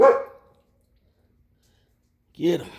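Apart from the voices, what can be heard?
dog barking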